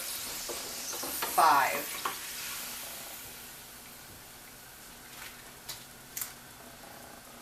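A tortilla frying in hot oil, a constant bright sizzle and bubbling with a brief louder burst and a few small clicks, close by, and a voice counts aloud.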